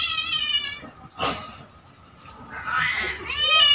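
Cat meowing up close: a drawn-out meow, a brief sharp cry, then another rising meow at the end, with faint background noise and no clear talk.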